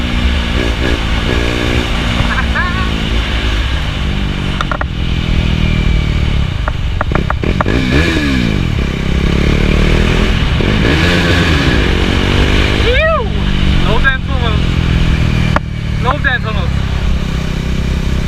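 A motorcycle on the road, with the engine revving up and dropping back through repeated sweeps, loud and close, over steady wind rush.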